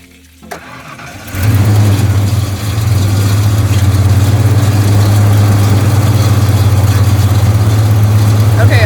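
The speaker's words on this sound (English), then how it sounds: "the truck runs great. Everything's good, little exhaust leak just like everything else" A pickup truck with a small exhaust leak starts up and settles into a loud, steady idle with a deep low rumble that continues unbroken close by.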